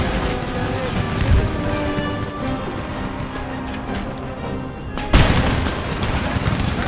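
Musket volleys in Empire: Total War with Ottoman Empire troops, a rumbling battlefield din with scattered booming shots and a sharp louder burst near the end, while a voice talks over the fighting.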